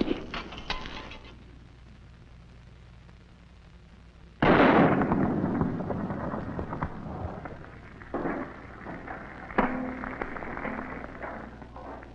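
A small rifle fires at a can, giving one sharp, loud crack followed by a lingering rumble and tail. More fainter pops and thumps come after it, with no speech.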